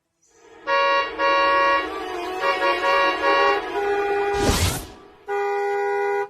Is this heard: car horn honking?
yes